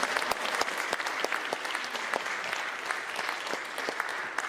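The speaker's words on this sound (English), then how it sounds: "let's give them a big round of applause" Audience applause for students at a school student media showcase, a steady wash of many hands clapping with sharp individual claps standing out, sustained at moderate volume throughout.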